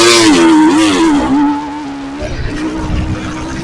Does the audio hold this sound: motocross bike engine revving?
yes